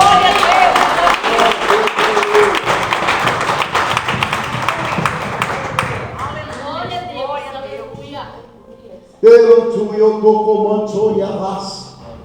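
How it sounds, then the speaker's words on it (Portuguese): A church congregation applauds the Lord during a service, a thick wash of clapping that fades over the first half, then gives way to someone speaking in a voice that grows louder near the end. "Aplauda o Senhor."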